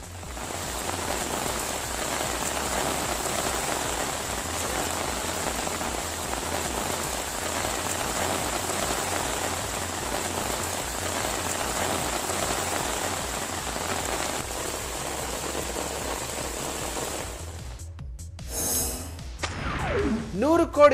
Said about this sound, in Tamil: தேனி, நெல்லை சுற்றுவட்டாரங்களிலும் கனமழை பெய்தது.